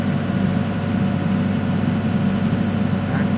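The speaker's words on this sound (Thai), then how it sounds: "ก็จะสังเกตว่ามันจะเร่งเครื่องค้างนี้ตลอด" A steady, loud engine drone from an XCMG XE60DA Plus excavator with its throttle held up, running continuously and evenly without any change in pitch throughout.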